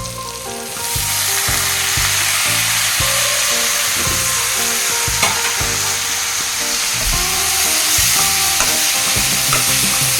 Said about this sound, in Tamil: இப்போ நான் ஒரு 4 தக்காளி சின்ன தக்காளியா அரிஞ்சு வச்சுருக்க பொடியா இப்போ இதை போட்டுக்கலாம்